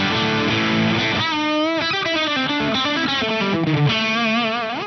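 Heavily distorted electric guitar played through an Axe-Fx III modelling a JCM 800 2203 amp at high gain with the drive pedal off, ringing chords and bent notes sustaining loud and continuous throughout.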